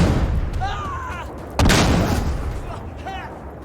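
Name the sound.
friendly artillery fire in video game Insurgency Sandstorm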